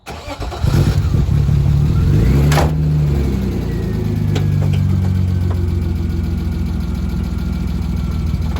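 A BMW E36 car, running on old oil, starts its first test drive out of a driveway. The engine catches and rumbles loudly up close, then settles and revs gently as the car pulls away, with no talking.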